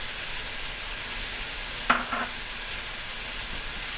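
Bamboo shoots drop into a pan of frying pork with a single clattering burst and a brief stir, over a faint steady sizzle and a thin high hum, near and with no talk.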